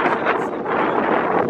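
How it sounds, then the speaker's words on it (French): Strong outdoor wind in the Sahara desert during a 100 km ultramarathon buffets the microphone with a loud, steady rushing roar and no pauses. "Je parle un peu fort parce que il y a du vent."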